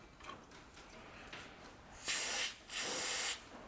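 Can of brake cleaner sprayed onto an outboard boat motor part, two close hissing bursts of about half a second each, following a few faint soft hisses, with no voices.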